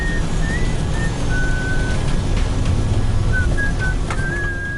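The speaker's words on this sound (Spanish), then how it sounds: "cuando oímos que el copiloto se puso a silbar" A co-pilot whistles a wavering, tuneful line inside an airliner cockpit, the thin notes rising and sliding over a constant loud engine and cabin drone.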